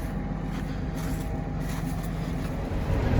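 A farm tractor pulling a disk ripper through a field drones steadily as a constant low diesel rumble, even and continuous throughout with no talk.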